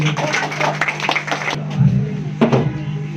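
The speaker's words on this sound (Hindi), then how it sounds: "एक बार ताली बजा दीजिए।" An indoor audience at a New Year celebration held by an Indian education group claps for an invited guest. A dense burst of applause fills the first half, then fades as a voice speaks.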